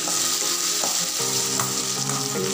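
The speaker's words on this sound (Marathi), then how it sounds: "तर टॅमॅटोसुद्धा आता मस्त आरतून परतून घ्यायचा आहे आणि तेलामध्ये शिजू द्यायचा आहे" Chopped tomatoes fry and sizzle in hot oil, a steady dense hiss lasting throughout, with a few soft stirring scrapes mixed in and no voices.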